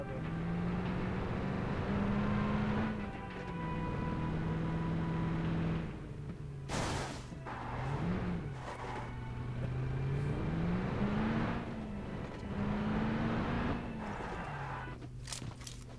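A video game vehicle engine drones steadily, its pitch rising and falling as it drives, with a few sharp clicks on top and no talk.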